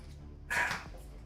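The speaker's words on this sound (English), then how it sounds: "Let's put down some foods for Zoe dogs" A single pet dog gives a short bark or yip while waiting to be fed, a brief burst standing out near the microphone against quiet room background.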